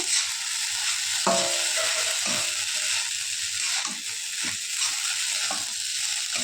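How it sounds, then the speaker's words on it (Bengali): Sago pulao being stirred in a pan after salt is added, with a spatula scraping and knocking against the metal over a soft background sizzle in repeated, uneven strokes. "দেওয়ার পর ভালোভাবে নাড়াচ্ছি।"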